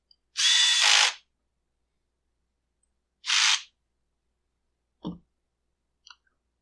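A power drill runs in two short bursts, the first about a second long and the second briefer, while driving a long screw into a Husqvarna 545 chainsaw during a fuel tank replacement, with faint clicks afterward in a quiet room.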